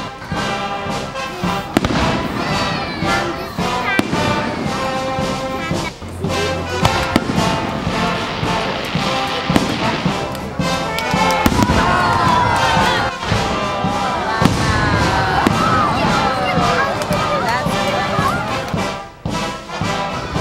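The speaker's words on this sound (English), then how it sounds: "hundreds of people are gathered around the lake to enjoy their spectacular fireworks show" Fireworks crackle and boom over a lake during a July 4th show, dense overlapping bursts and rapid firecracker pops close by, with a crowd cheering and children shouting throughout.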